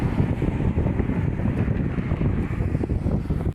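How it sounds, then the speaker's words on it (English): Strong wind buffets an outdoor microphone, a constant loud low rumble with gusty fluctuations and no clear voices. "Sorry about the wind."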